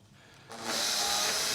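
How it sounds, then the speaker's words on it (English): A cordless drill with a bit already fitted whirs up from quiet to a steady high-pitched spin, close and loud, running alone, with saloon seats for a sailing yacht being built. "You don't need to change the chuck because I've already got the drill bit in there."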